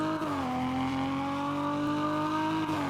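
Tuned 600HP car engine in the Roblox game Fix it Up revs continuously, a loud, steady engine drone with a pitch that dips, climbs and holds, alone without talk.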